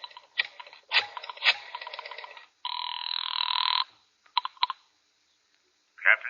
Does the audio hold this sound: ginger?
no